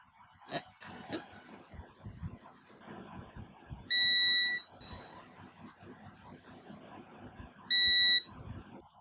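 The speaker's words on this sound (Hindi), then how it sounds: "यहाँ आपको डेटा और क्लॉक लाइन की जो है बजर मिलनी शुरू हो गई है" A multimeter continuity buzzer on the data and clock lines of an Infinix GT 10 Pro phone gives two loud, steady high beeps, each under a second long, a few seconds apart amid faint handling noise.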